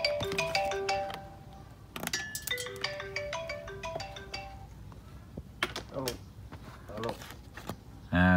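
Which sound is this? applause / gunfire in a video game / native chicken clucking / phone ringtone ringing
phone ringtone ringing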